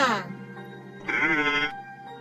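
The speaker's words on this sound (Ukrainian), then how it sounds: "Так, це вівця." Two close, loud sheep bleats, one short and one longer and wavering, separated by a brief pause.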